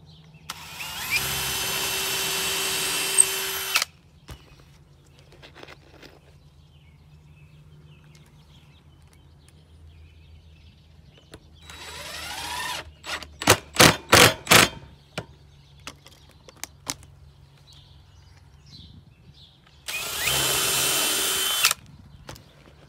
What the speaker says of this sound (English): So I'm gonna pilot drill into it here.